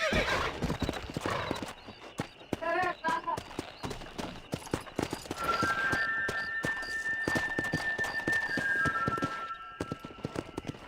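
Horse hooves clip-clop at a steady gallop in Red Dead Redemption: Undead Nightmare, close and continuous, with a brief whinny and game music or voices running underneath.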